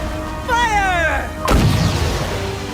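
A cannon fires in the Cookie Run Kingdom video game, a single heavy boom about halfway through that rumbles and decays. Rising whistling tones and game ambience come just before it.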